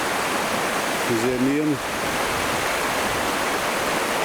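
A mountain river rushes past an old water mill in a steady, close, full-bodied roar that never lets up, with one short spoken word near the start.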